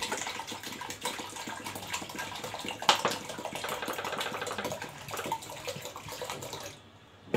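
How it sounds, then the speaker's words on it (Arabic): Water is added bit by bit and stirred into a mixture, producing a quiet, steady run of water with occasional clinks and scrapes that fades out just before the end. "نبدا بقى نضيف الميه بتاعتنا حبه بحبه ونقلب كده"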